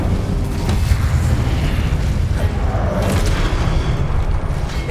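A fire spell blast in Hogwarts Legacy roars as a sustained loud whooshing rumble, steady and near, with crackling bursts through the middle and no speech.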